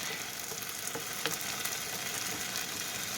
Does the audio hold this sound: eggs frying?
yes